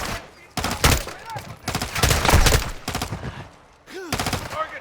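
Bursts of rapid gunfire from a shooter video game on veteran difficulty, loud and close, firing in several repeated volleys with short gaps between them.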